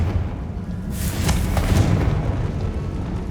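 A Confringo fire-blast spell explodes in Hogwarts Legacy, a dull, booming burst about a second in that rolls into a sustained rumbling roar with no speech.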